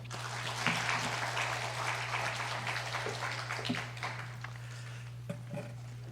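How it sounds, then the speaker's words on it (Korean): Applause from a congregation at a Sunday afternoon praise worship service in a Korean church, a dense steady patter of many hands clapping that fills the room for several seconds, with no talking over it. "우리 한번 오래간만에 보는데 박수 한번 하겠습니다"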